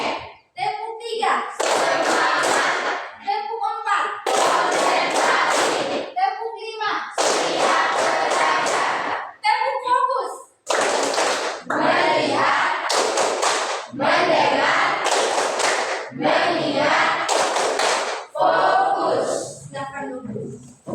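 A classroom of children claps their hands in loud, repeated bursts of rapid claps, separated by short pauses while the group chants counts in unison between the claps.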